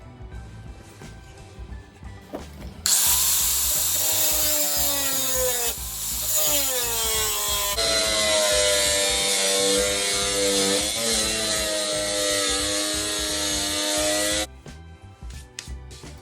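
Power tool cutting out a drawn shape for a VW T4 swivel base, a loud, sustained high-pitched whine that holds for about twelve seconds with shifting pitch as the cut progresses, then stops abruptly.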